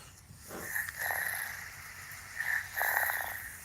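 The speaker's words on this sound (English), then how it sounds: "That's a sleeping, snoring sound." A reborn doll's sound device plays a recorded snoring loop, with breathy, nasal snores rising and falling in two clear cycles at full volume, close and alone with no talk.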